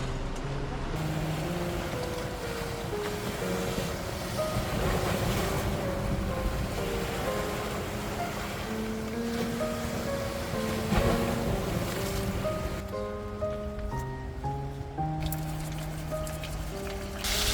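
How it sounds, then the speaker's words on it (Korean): Steady roar of wind-driven waves breaking against a breakwater, continuous and fairly loud, with wind buffeting the microphone and a low hum underneath. "앞에 방파제에 지금 파도가 지금 굉장히 많이 치고 있네요"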